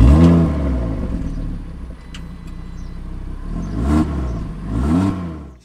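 Audi TT RS Sport Edition with its 2.5-litre five-cylinder engine revving hard: a close, loud blip at the start, a settling idle, then two more sharp rising revs near the end, with no talk over it.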